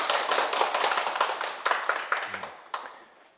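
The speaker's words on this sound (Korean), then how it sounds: "이건 너무 좋은 질문인데 박수 한번 치세요." Scattered clapping from an audience at a spiritual lecture, a few dozen distinct sharp claps that thin out and fade toward the end.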